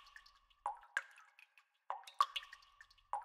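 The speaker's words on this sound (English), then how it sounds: "Fox heard a sound. It went drip, drop," Water drips fall one at a time in a quiet space, several distinct close plinks and plops spaced irregularly with short silences between them.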